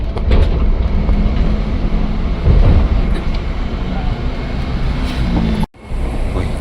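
A KRL commuter train at Palmerah station on the Rangkasbitung line, a loud continuous rumble and hiss of the carriage with a brief dropout near the end and no talk.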